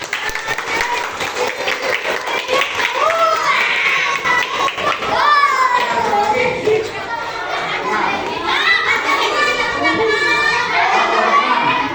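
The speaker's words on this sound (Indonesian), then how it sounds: "Ya, tepuk tangan buat Bapak Sika." Applause for a speaker at a school learning session, with clapping mixed among lively children's voices and chatter that continue over the whole stretch.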